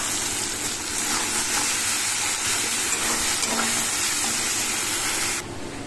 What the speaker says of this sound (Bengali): পেস্টটা দিয়ে দিলাম।